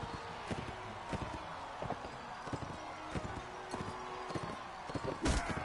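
Horse hooves clip-clopping at a rapid rhythm in the Mount & Blade: Warband video game tournament, a steady run of muffled thuds with a louder impact near the end.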